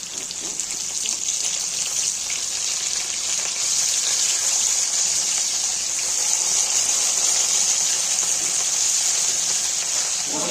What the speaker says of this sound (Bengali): তারপর এটাকে আমি সরিষার তেলে ভাজা ভাজা করবো